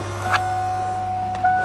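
A Mercury Marquis engine idles with a low, steady hum just after starting, while a continuous dashboard warning tone rings over it and a couple of soft clicks occur.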